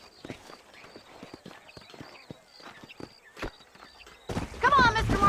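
Horse hooves clip-clop steadily in Red Dead Redemption, a rhythmic series of sharp hoof strikes under background noise, joined near the end by a louder burst of sound.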